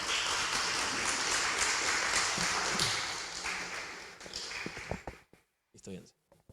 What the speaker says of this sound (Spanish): le damos un aplauso para recibirlo y animarlo